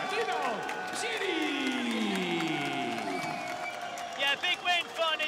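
A boxing arena crowd erupts for the winner of Nidal Bchiri vs. Errol Zimmerman, sustained cheering and applause running under an announcer's voice and music, with bursts of louder clapping near the end.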